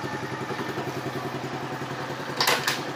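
A cold 50cc motorcycle engine idles at a standard, even idle after a wash, its steady putter running close and alone, with a brief clattering knock near the end.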